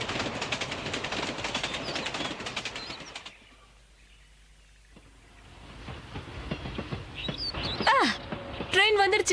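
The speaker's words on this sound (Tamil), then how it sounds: "இதோ ட்ரெயின் கிளம்பிடுச்சு." A cartoon train pulls out of the station with loud rumbling wheel and engine noise, then a sudden quiet gap before the noise builds back, ending with sharp whistle-like chirps; voices are heard over parts of it.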